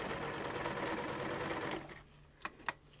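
A sewing machine stitches fabric in a steady, continuous whir for about two seconds, then stops, leaving two brief mechanical clicks in the quiet that follows.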